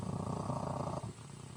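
Close, steady purring from a cat, a low rumbling vibration that continues evenly and then softens slightly toward the end.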